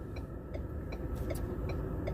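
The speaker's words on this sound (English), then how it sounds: "I'd like to turn the blinker off, but I can't. Sorry about the noise." A car's turn-signal blinker ticks in a steady, regular rhythm at about two clicks per second. The ticking is quiet and sits over low cabin or road rumble.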